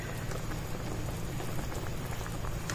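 Pork simmering in a pot of water for Filipino nilaga soup, a steady close bubbling and popping at a rolling boil with no voices.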